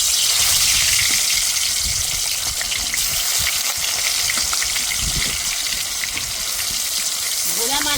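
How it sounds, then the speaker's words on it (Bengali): Bhola fish sizzling and frying in hot oil, a loud steady hiss and crackle filling the whole stretch with no voices over it. "তেল ভালো করে গরম করে নিয়েছি। এবার মাছগুলো দিয়ে দেব।"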